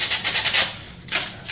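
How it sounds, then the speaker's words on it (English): Hand sanding works the rough edges and sides of a small wooden cube-in-a-cube box, producing close, uneven scratchy rubbing strokes in short bursts with brief gaps. "Still trying to do some more sanding"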